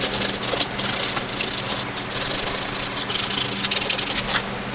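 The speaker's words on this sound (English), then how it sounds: "since it has sandpaper, I'm going to sand some of these a little bit flat here." Sandpaper rubs back and forth over plastic pieces from a plastic welder kit, a steady, close, gritty scraping with a fairly even rhythm and no talking.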